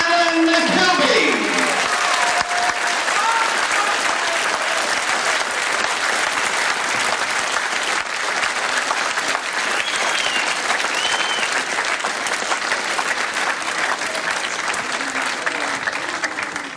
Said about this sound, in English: although he can't hear your applause, he can certainly see you all clapping